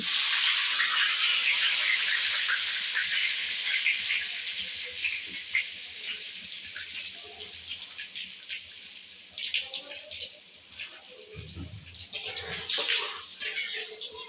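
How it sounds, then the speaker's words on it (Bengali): Whole cloves, cardamom and cinnamon fry in a mix of ghee and oil, giving a loud steady hissing sizzle that gradually softens and turns crackly, with a brief clatter near the end. "ঘি আর তেলটা মিশে গেছে এবার আমি এর মধ্যে দেব লবঙ্গ এলাচ দারচিনি"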